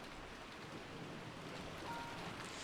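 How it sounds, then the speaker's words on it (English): Heavy rain ambience from the visual novel game Umineko, a steady dense hiss of downpour that holds evenly throughout with no voices. "Sure is raining hard."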